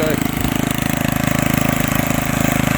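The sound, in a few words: old garden tiller engine running while tilling soil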